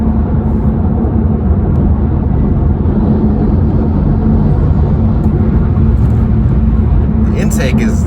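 A BMW F30 335i with the turbocharged N55 engine pulls hard under acceleration, a loud, steady low drone and intake roar filling the cabin while a person talks over it.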